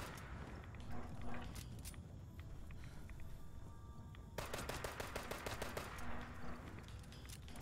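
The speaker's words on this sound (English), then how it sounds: "I'll take on this level 65 Scorch Beast with a level 5 gun." Gunfire from a low-level gun in a post-apocalyptic video game, aimed at a level 65 Scorch Beast: rapid bursts of repeated shots at moderate loudness over busy game ambience, with no talking.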